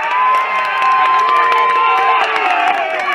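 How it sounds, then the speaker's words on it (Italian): A dense, sustained roar of football fans celebrating a goal by Campania against Piemonte VdA, loud and continuous, with whistles and shouts rising out of the crowd. "come potete sentire la grande esultanza di tutti i tifosi sopraggiunti"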